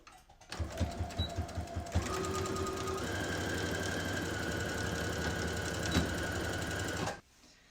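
A sewing machine stitches a fabric face mask: a brief stuttering run of stitches, then a steady, close, continuous whir of motor and needle that lasts several seconds before stopping abruptly.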